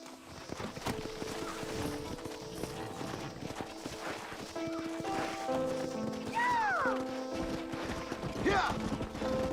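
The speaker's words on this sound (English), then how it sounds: "Horses are over here!" Horse hooves clip-clop steadily in the Western video game Red Dead Redemption on Xbox 360, with a whinny and rising chirps over a busy background of ambient game sounds and music.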